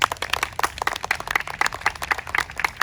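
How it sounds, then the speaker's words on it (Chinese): Crowd applause at an outdoor flash mob performance for a youth wind band of young musicians, with sharp, fairly close individual claps in a busy, uneven rhythm. "让我们再为这群小小音乐家们一个热烈的掌声"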